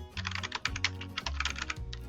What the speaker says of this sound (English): And then you start typing your note